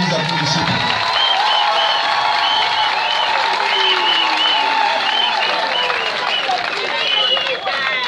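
Applause at a political rally in Gabon: a loud, sustained crowd noise of clapping mixed with whistles, cheers and shouting voices, continuous for several seconds.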